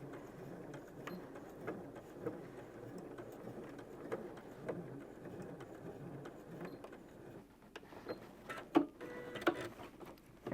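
A domestic sewing machine back stitching the seam of a brew apron, with a steady, close mechanical whirr running throughout and a few sharper clicks and knocks near the end.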